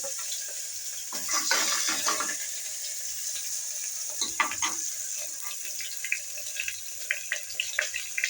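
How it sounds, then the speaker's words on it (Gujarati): Curry leaves and spices crackling in hot oil for a tempering while cooking aloo paratha in a village kitchen, bursts of sputtering sizzle with quieter gaps between pops. "લીમડાનો વઘાર કરી નાખ્યો"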